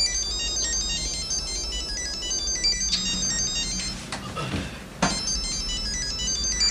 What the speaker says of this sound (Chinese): 修斯老师的电话你要不要接啊？